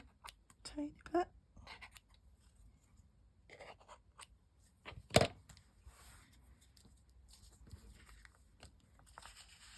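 Scissors snip and trim small pieces of book paper for a junk journal craft, a handful of quiet, crisp cuts scattered among faint rustling, with one sharper clack near the middle.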